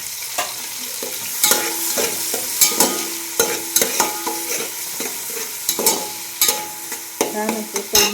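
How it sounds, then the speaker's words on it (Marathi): Tomatoes and capsicum fry in a big pot for pasta, a constant sizzle punctuated by frequent scraping stir strokes and clinks of the spoon, close and fairly loud. "छान असं तळून द्यायचं छान."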